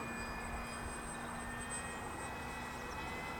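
A Super Cub model airplane flies with a steady, moderately faint engine drone that holds an even pitch throughout, with no voices.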